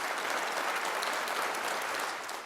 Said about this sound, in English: Applause for the chair of the infected blood inquiry before he even began to deliver his latest